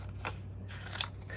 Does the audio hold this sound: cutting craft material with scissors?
yes